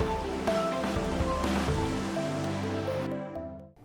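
River water rushing through the Narrows in Zion National Park, a steady broadband wash of flowing water, close and fairly loud, fading out near the end.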